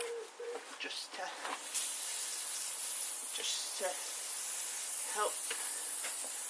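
Oil lubricant sprayed from an aerosol can onto a rusty bike chain, a steady close hiss running for several seconds after a few brief sounds, with a voice speaking briefly.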